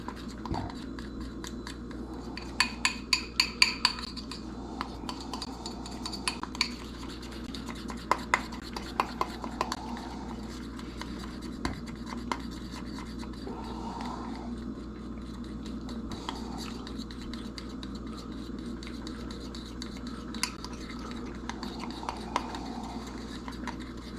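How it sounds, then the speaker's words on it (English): A spoon stirring thick honey mustard sauce round a bowl, producing faint scraping and scattered small clicks that repeat irregularly. The stirring stays soft and close, with a voice talking over it much of the time. "Just mix it in all kind of crazy directions"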